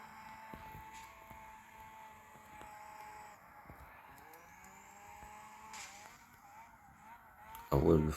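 Tires squeal through a long, sustained drift in CarX Street, with engine drone and a few short screeches, ending in a loud burst.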